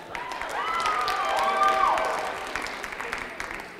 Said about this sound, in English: Give another a round of applause for Matt.